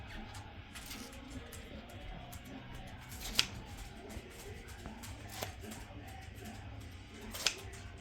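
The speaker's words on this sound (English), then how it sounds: "Now we're just going to cut out our octagon real quick." Scissors cutting out a paper octagon: soft, irregular snipping and paper rustling with a few sharper clicks of the blades closing, fairly quiet against faint room noise and no talking.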